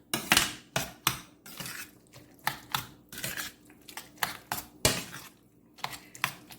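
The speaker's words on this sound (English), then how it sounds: "you're going to mash the eggplant while you're doing that" Roasted eggplant being mashed in a pan resting on an unlit stove, heard as a run of sharp, irregular clinks and squishy taps of utensil against pan, close and fairly quiet, with short pauses between strokes.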